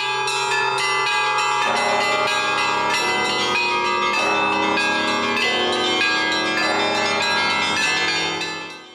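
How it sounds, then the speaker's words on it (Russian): Church bells of the Nizhny Novgorod Kremlin, at the restored bell tower of the old Spaso-Preobrazhensky Cathedral, ringing loudly and continuously in overlapping peals that fade out at the end. "Колокольный звон в Нижегородском Кремле."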